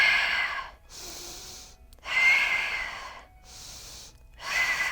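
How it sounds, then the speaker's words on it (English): Deep, audible breathing during an abs yoga flow: four long, forceful breaths close to the microphone, each separated by a short silent pause. "Let's do 3 breaths this time."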